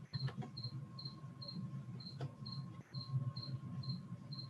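Steady crickets chirp in a regular pulsing rhythm over a low background rumble, with a few faint clicks; no voices.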